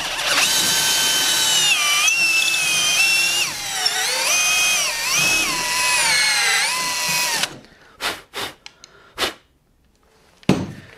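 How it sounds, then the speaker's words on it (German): A power drill bores with an 8.5 mm bit while building a router lift table, a loud continuous whine that rises and falls in pitch for about seven seconds, then stops and gives way to a few short clattering knocks. "bohren rein und kippen dann nochmal nach."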